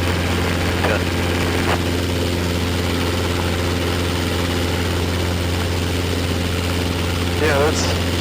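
An R22 training helicopter in flight, its engine and rotor making a loud, steady drone with a low hum and a constant buzz close up in the cabin, under faint intercom chatter.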